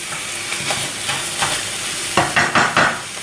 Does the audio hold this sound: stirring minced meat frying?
yes